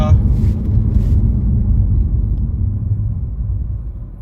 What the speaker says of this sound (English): We're at 55 miles an hour now, and I'll just test those brakes over now,